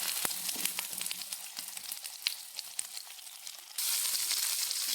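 Tomatoes fry in a pan for potato bharta with a soft, crackling sizzle and scattered pops that swell into a brighter, steadier hiss near the end. No one speaks.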